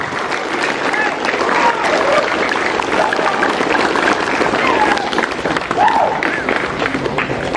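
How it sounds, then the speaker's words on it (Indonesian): Audience at a school ceremony applauding grade 12 students, a dense sustained wash of many hands clapping at steady loudness throughout, with crowd voices and chatter underneath. "sebagai bentuk penghargaan kita kepada mereka, kasih dulu aplaus kepada kelas"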